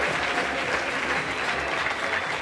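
Audience applauding for a band at a music competition results announcement, a steady dense wash of clapping that stays loud and even throughout with no pauses.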